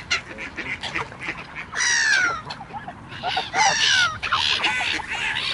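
Ducks quack repeatedly in loud, raspy bursts over a busy outdoor background, several birds calling close by with short gaps between calls.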